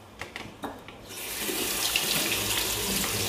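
The grinder of a Cecotec Matic-ccino 7000 coffee machine is rinsed under hot tap water: a few light clunks and taps, then the faucet opens into a steady, loud hissing stream that runs to the end.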